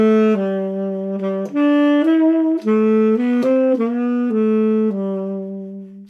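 A solo saxophone plays the slow, lilting Hanukkah melody Maoz Tzur, each sustained note stepping cleanly to the next in a gentle, steady phrase.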